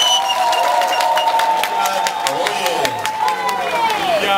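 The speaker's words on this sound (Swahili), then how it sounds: "Naomba tujipigieni makofi sana." A crowd at an Uhuru Torch event at a mining project claps and cheers. Sharp, scattered claps sound over a sustained tonal voice or music layer, moderately loud and close.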